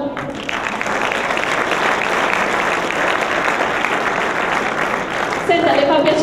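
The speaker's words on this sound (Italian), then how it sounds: "un bel applauso" Audience applause at a business award ceremony in Lecco, honoring a fourth-generation family company; steady, loud clapping from a full room throughout, with a voice beginning to speak over it near the end.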